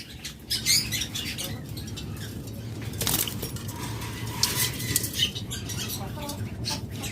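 Several high-mutation pet birds in cages, busy overlapping chirps and tweets with wing flutters and cage rattles close by, steady chatter throughout.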